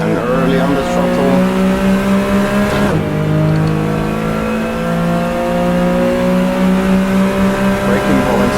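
Engine of a Porsche 911 Carrera RSR 3.0 in the Assetto Corsa racing game, a loud, steady, rising drone under acceleration with a brief dip partway through as at a gear change, then climbing again.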